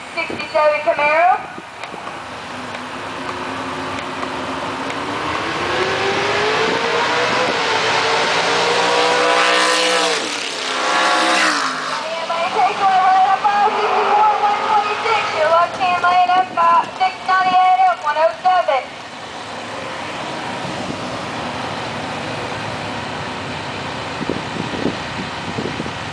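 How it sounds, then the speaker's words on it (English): A 1967 Camaro drag racing makes loud engine revs and rising acceleration roars with a sweeping pass, while an announcer talks over the track noise. "Now left hand lane, you got Wayne Pratt, this 67 Camaro."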